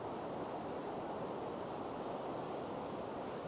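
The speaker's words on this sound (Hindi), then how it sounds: "ये है मंदाकिनी रिवर फ्लो कर रही है" The Mandakini river rushes steadily along a Kedarnath trekking route near Sonprayag, a dense, continuous roar of flowing water that stays loud and even throughout, with no voices over it.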